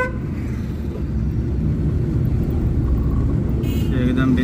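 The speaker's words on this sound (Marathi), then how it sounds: "तुझंच हॉर्न मोठं असा" A vehicle horn sounds on the Mumbai-Goa highway, NH66, near Ratnagiri, rising over steady, loud road and engine rumble toward the end.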